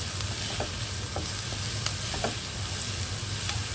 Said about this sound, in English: So fry these together until they become a little bit soft.